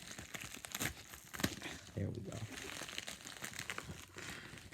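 Thick plastic USPS mail packaging being cut and torn open with scissors, close crinkling and ripping bursts interspersed with brief talk.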